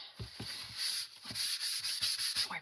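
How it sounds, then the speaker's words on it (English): Close, rhythmic rasping of sandpaper rubbed by hand, repeated back-and-forth strokes in a steady pattern, loud and gritty with no talking. "Paper sanding does get to be messy."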